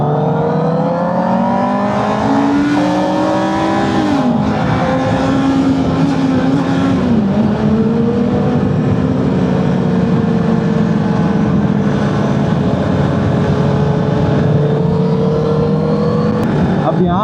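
Motorcycles on a group ride in Australia rev and accelerate together, several engines droning loud and near with rising and falling pitch sweeps as bikes shift gears and spread apart, steady throughout.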